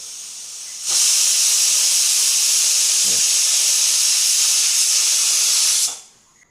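A pressure cooker cooking horse gram releases a loud, sustained whistle hiss of steam for about five seconds, then cuts off abruptly; close by, no talking.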